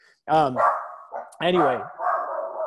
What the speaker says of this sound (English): Great, now I got my dog barking.